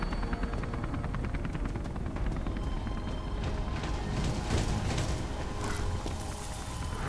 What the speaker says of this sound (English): I knew there was a helicopter.